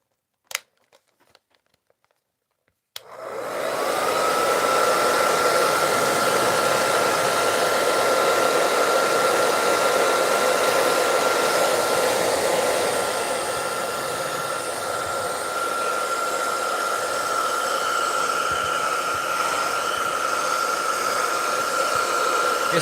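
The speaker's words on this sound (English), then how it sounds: "So on comes the hair dryer once again." A hair dryer switches on after a few quiet seconds of small handling noises and runs as a steady, loud whoosh with a faint whine, drying layered paint for a rippling-water effect in an art piece.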